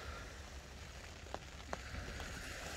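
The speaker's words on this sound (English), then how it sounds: "Let's hope this rain will ease off." Rain falls on Southbourne Beach on England's south coast, a soft, even hiss with a few faint drop ticks, quiet and continuous with no voices.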